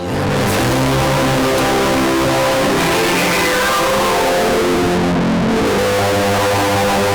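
A loud, continuous, gritty synthesizer tone with harsh distortion, shifting in pitch and texture throughout, with no talking.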